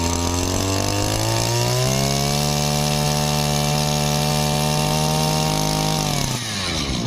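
A Maruyama two-stroke brush cutter engine runs steadily at high revs, loud and close, with a buzzing harmonic whine that drops off as it slows near the end.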